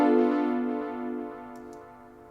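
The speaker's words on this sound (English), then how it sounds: "B half diminished chord sounds like this." B half-diminished seventh chord sounded once, a sustained harmonic chord that starts strong and slowly decays over about two seconds with no other sounds.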